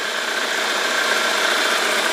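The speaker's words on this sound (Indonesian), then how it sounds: "Coba gas. Nah, aman ya. Untuk suara mesin di gas ini aman." A modified 1995 Toyota Corolla engine runs steady and loud nearby, a dense, even mechanical roar with no voices over it.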